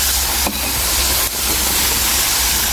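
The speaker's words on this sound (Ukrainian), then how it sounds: "Додаємо водичку." Water pours and hisses into a hot pot of potatoes, carrots, tomato and pork ribs stewing outdoors, a loud steady rushing broken by two brief dips.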